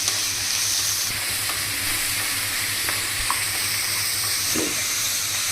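Tomatoes and tamarind fry in a pan while being stirred, giving a steady close sizzle with occasional scrapes and clinks of the spoon. No one speaks.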